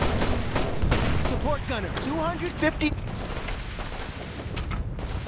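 Rapid gunfire crackles in the military shooter game Operation Flashpoint: Red River, with bursts of shots and a booming explosion mixed under radio-style voices calling out orders.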